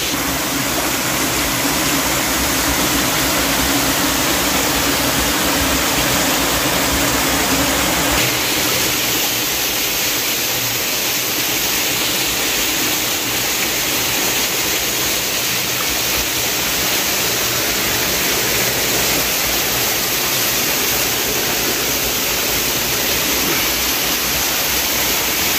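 Water rushes and crashes at the Gondivanka Jalakanteshwara waterfall, a loud, continuous roar of broadband noise that stays constant throughout with no voices.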